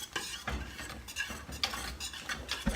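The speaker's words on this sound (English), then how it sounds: "Give it a stir here" A spoon stirs thick, bubbling apple pie filling in a pot on a hot commercial stove, giving repeated scraping strokes and soft sizzling at close range, with no talking.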